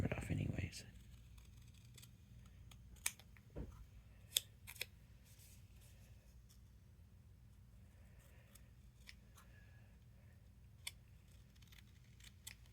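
Scissors cut paper along a craft template, a few crisp snips heard close up against a quiet background after a brief louder noise at the start.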